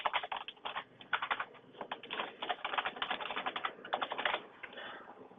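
Rapid bursts of typing on a computer keyboard while entering email addresses, clustered keystrokes with short pauses, close and clear, no talking.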